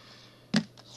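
Scissors cut a fabric label in half, two crisp snips about half a second apart, the first louder and fuller, close against a quiet background.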